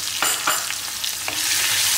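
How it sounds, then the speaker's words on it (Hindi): Cumin, grated ginger and finely chopped green chili sautéing in a pan for a dhaba-style sev tomato curry, a steady close sizzle with a few soft stirring scrapes and spatula touches, no talking. "ये इसको हम सॉटे कर लेंगे"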